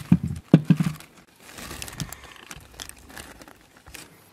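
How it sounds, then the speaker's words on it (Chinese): Washed grapes being mashed inside a plastic bag, with sharp crinkling and squishing bursts early on, then softer irregular rustling and pressing; no voices. "装在袋袋里边，榨成汁"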